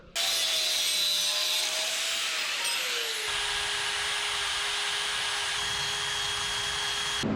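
A slicer cutoff tool cuts through metal in a workshop during work on an LS-swapped S-10, giving a steady, loud high-pitched grinding whine that shifts in pitch partway through and runs continuously for several seconds.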